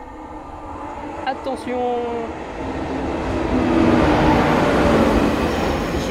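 A TGV high-speed train passes trackside, its rushing roar building from a moderate rumble to a loud, broad wash of noise; a person calls out briefly early on amid faint chatter.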